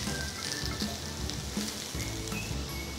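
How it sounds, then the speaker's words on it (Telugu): Small-cut potato pieces sizzle in hot oil while being stirred, a steady close frying hiss with a busy layer of scraping and clinking from the spoon against the pan. "మాడిపోకుండా కలుపుకుంటూ ఫ్రై చేసుకోవాలి"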